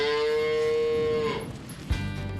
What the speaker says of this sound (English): She's a Jersey cow and therefore agreeable, adorable, and gives milk that is rich, nourishing, and sweeter than any cow's milk.